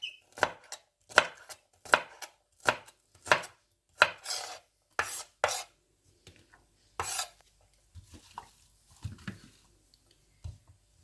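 A knife chops vegetables finely for tacos on a board, with about eight crisp, evenly spaced strokes followed by a few scattered, softer cuts. The chopping is close and clear, with no talking.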